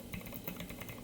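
Typing on a computer keyboard during a Python programming lesson: a quick, steady run of light clicks and taps across about a second, close and fairly quiet, with no talking.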